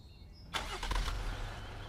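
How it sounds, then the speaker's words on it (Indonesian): Heavy machine vehicle engine in a mobile simulation game cranks and catches after a quiet half second, then settles into a steady low rumble that carries on to the end. "Mulai kendaraan, tekan start."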